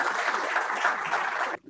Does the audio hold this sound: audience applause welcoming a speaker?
yes